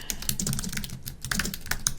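A search query is typed on a computer keyboard in a quick, steady run of close, crisp key clicks with no voice over them.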